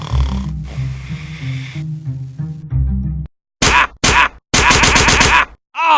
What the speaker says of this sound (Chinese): 当气流高速通过这些狭窄的部位时，就会形成漩涡，引起悬雍垂和舌根快速震动，发出讨厌的呼噜声